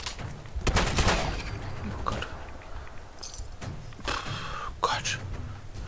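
Gunfire in the video game Fallout 4: several sharp, separated shots, one early and loud and a few later bursts, mixed under people talking.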